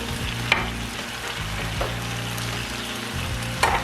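Ground meat browning in a pan with tomato paste for shepherd's pie, sizzling and frying in a steady close hiss, with a few sharp stirring clinks and scrapes throughout.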